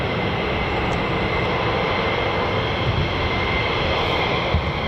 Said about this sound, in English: We've got one F-15 on the move.